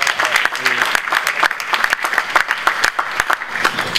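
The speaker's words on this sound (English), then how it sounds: "May we give him another round of applause, please." A hall audience at the 10th Abuja Housing Show gives Senate President Bukola Saraki a round of applause, dense continuous clapping that runs for about four seconds.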